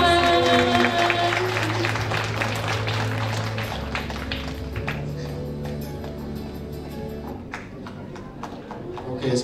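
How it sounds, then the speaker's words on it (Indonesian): An audience applauds after graduates perform at a professional oath-taking ceremony, a dense, sustained wash of clapping heard over background music that fades slightly toward the end. "sekali lagi beri tepuk tangan untuk penampilan dari peserta peminatan klinis anak"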